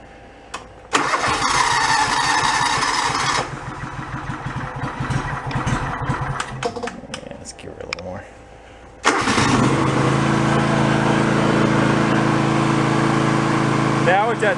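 John Deere lawn tractor engine with a flooding fault starting and idling close by, loud and steady with a brief dip in the middle, while people talk over it.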